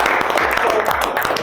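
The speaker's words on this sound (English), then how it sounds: "Clap it up, everybody." A group at a YouthBuild meeting claps together, a close and fairly loud burst of uneven hand claps with some overlapping voices underneath.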